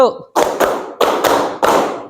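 Group of participants clapping in unison during a 'tepuk 1' clap game at an academic coaching session, three sharp double claps in a steady rhythm, close and loud, with a brief voice at the start.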